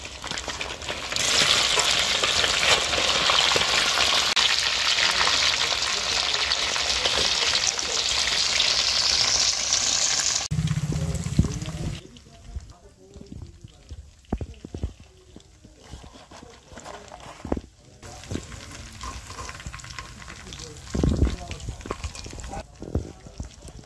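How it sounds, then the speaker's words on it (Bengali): Pieces of already-fried chicken crackle and sizzle loudly in hot oil for a second fry, a dense continuous frying hiss that drops off after about ten seconds, leaving quieter scattered stirring sounds and soft background noise. "এবার এই ভাজা চিকেনগুলোকে আরো একবার একটু ভেজে নেব।"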